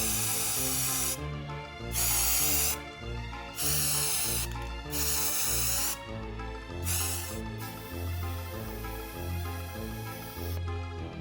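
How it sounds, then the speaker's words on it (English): Repeated bursts of black aerosol spray paint hiss onto glass bottles in short sprays of a second or two, separated by pauses, over loud background music. "I am going to be spray painting the bottles with some black spray paint"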